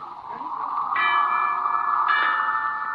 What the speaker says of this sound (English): Bells in my town.